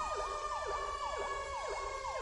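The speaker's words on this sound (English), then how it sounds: "Is my siren on?" A police car siren in the video game LSPDFR wails in a rapid repeating yelp, loud and steady with no other sounds.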